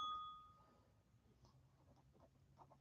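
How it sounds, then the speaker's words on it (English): A single bell rings once with a clear metallic ding that decays over half a second in a quiet indoor room, followed by faint shuffling and handling noises. "Ring the bell."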